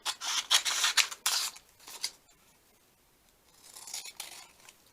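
Scissors trim the edges of a handmade paper pocket envelope for a junk journal, making a series of close, crisp snipping and rasping cuts, a pause, then a softer run of cutting.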